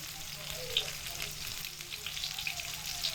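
Raw green mango pieces fry with whole spice tempering in oil for a sour moong dal, giving a steady close sizzle with a few soft stirring scrapes throughout.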